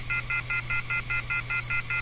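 A phone number is dialed in a video game as ten evenly spaced touch-tone beeps, each short and clear, repeating in a steady rhythm over a low constant hum.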